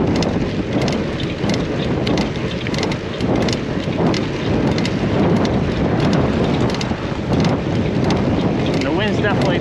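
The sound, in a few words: strong wind blowing on a bike ride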